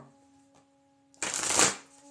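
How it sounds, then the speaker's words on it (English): A short, crisp riffle of tarot cards being shuffled, loud and close, following a quiet pause with a faint hum. "We shuffle the cards."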